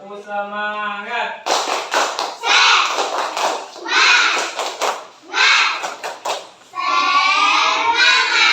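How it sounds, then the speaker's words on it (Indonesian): A school class does the 'tepuk semangat' rhythmic clapping chant, sharp bursts of claps alternating with children's chanting voices in quick, loud, close patterns. "Tepuk semangat."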